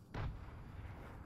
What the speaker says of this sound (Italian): Tirano le bombe.